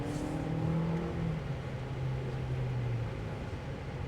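A 2026 Honda CR-V Hybrid AWD Trailsport pulls away from a stop, a steady engine and road drone with rising tonal whine as it gains speed, continuous and fairly loud from inside the cabin.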